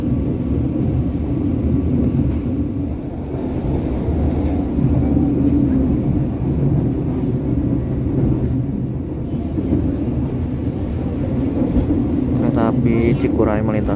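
The Cikuray passenger train runs through on the Indonesian railway with a steady, loud low rumble of wheels and wind, and a brief high squeal near the end. Voices are faintly present in the mix.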